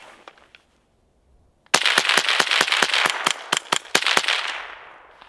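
An HK 416-22 rifle loaded with mixed .22 subsonic and supersonic rounds fires a rapid string of about a dozen loud, close, evenly spaced shots after a brief quiet pause, with a few faint earlier pops.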